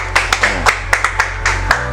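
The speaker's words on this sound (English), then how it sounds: "Mr. David Allard, a louder round of applause." A round of applause from an audience at a political party event comes as sharp, close, loud claps at a brisk uneven rhythm, over a low steady hum.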